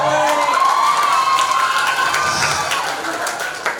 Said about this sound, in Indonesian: Oke, tepuk tangan Mas Adiba.